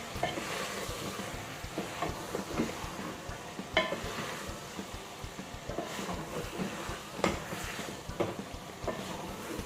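Aloo gobi curry sizzles and fries in a pan while a spoon stirs it, producing steady low crackling with irregular scraping clicks throughout, no talking.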